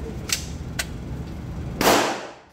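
A dry, unoiled firearm is test-fired with Magtech ammunition: two light mechanical clicks, then one sharp, fairly loud report with a fading tail.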